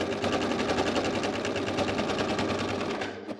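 An Amber Air S 600 overlocker serges fabric in a steady, loud, fast rhythmic whir of stitching that runs continuously and slows near the end, with no talking.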